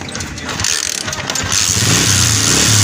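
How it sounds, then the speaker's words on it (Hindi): A Honda 125 motorcycle with a starting problem is kick-started, catches, rumbling loudly at close range and settling into a steady idle with mechanical clatter. "तकरीबन दूसरी से तीसरी किक में हमारी बाइक स्टार्ट हो रही है"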